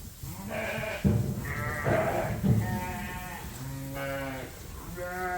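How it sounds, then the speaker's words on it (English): Young replacement ewe lambs bleat repeatedly on a farm, several overlapping calls close by, some drawn out and some short, with livestock shuffling and pen noise underneath and no talking. "These are the replacement ewe lambs."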